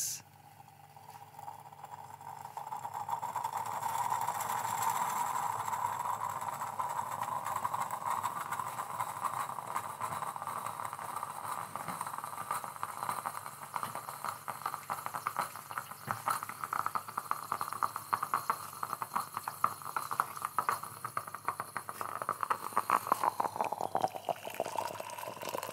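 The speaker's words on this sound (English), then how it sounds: "It's sizzling. It's on its way." A steady hissing, bubbling sizzle from a stovetop coffee pot goes on for nearly half a minute, with gurgling pops growing more agitated toward the end.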